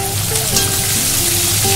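Chopped green chillies fry in a pan while a chicken dish is cooked, giving a continuous, close sizzle with faint tonal hum behind it.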